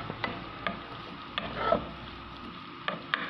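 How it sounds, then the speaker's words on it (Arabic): Onions frying in about three ladles of oil, a soft steady sizzle under several sharp clicks and taps of a utensil against the pan, close by with no talking. "ندير البصل تاعي يتقلى"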